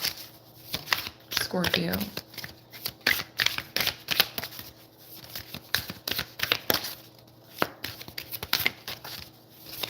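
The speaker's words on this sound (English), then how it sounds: "You don't shuffle that easily." Tarot cards being shuffled in quick, repeated bursts of crisp riffling and slapping, close and clear, with brief pauses between rounds and a voice speaking over them.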